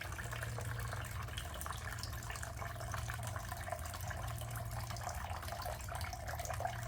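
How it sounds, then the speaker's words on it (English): Simulated urine draining from a urinary drainage bag into a container during a nursing aide skill demonstration, a steady unbroken trickling and pouring of liquid that runs close and even the whole time, with a low hum underneath. "We're going to drain all of the simulated urine from the urinary drainage bag."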